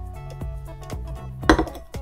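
Drinking glass picked up from a plate in a kitchen water-and-matches experiment, a few light clinks and taps, with one brighter ring near the middle, fairly close and quiet.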